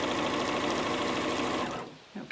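A sewing machine runs steadily, stitching a seam through an improvised holiday quilt block with a muslin backing, a dense rapid whir that stops abruptly near the end, followed by a brief handling noise.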